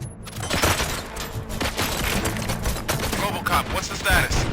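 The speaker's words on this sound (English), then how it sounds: "Gunshots? What's going on?" Bursts of gunfire in Robocop: Rogue City, with dense, loud, repeated shots and impacts over several seconds, with some speech in the mix.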